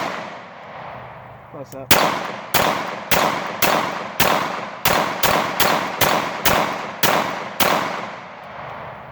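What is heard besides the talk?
CZ 75 SP-01 pistol shots fired at targets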